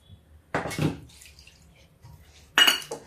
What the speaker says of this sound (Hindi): थोड़ा पानी डाल देते हैं हम।